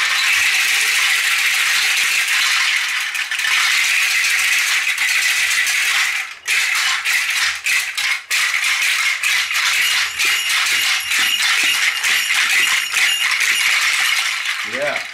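African seed pod rattles shaken hard and continuously, a bright dense rattling with brief pauses and regular pulses, loud and close.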